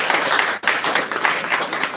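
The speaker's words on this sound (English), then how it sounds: "I think we should give him a big clap." Audience at an agricultural event in India claps in a dense, lively burst, with a brief dip before the clapping swells again.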